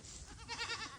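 A farm sheep gives one short, faint, wavering bleat at close range, with no talk over it.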